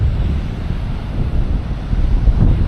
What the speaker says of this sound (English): even though it's very chilly, like the wind is very chilly, but just looking at the waves, it's very relaxing